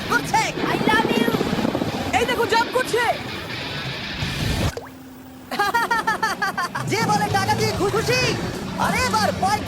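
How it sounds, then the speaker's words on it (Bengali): Helicopter carrying people over an island, its rotor chop a loud continuous thrum beneath excited voices, briefly cut off midway before resuming. "এই হেলিকপ্টার ছেলেদেরকে শূন্যে নিয়ে গেল"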